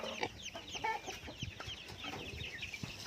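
Chickens clucking on a small farm where ducks and chickens are raised: several birds cackle and cluck in overlapping bursts at close to moderate distance, continuous for a few seconds with no talking.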